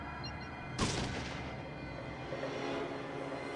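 Gunshot in the video game Fallout 1: a single loud boom with a long rumbling tail over steady background game noise, no talk.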